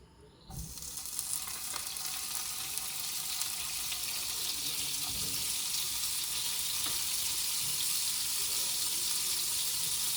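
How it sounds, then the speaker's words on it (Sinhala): Two spoonfuls of butter melting in a saucepan, giving a steady, close sizzle that starts abruptly and holds at an even level throughout, with no voices. "අපි දැන් මුලින්ම බටර් හැඳි 2ක් සෝස් පෑන් එකට එකතු කරගමු."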